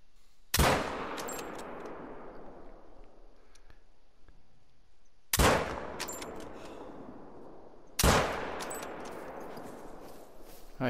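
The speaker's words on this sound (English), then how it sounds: "I think those were terrible shots." Three loud rifle shots during a sika deer hunt outdoors, each a sharp crack followed by a long rolling echo, spaced several seconds apart with quiet between.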